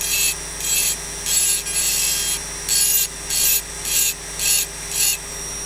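Rough diamond bur engraving a glass vase: a steady high-pitched grinding hiss pulsing in short strokes about every half second, close and fairly loud over a faint motor hum.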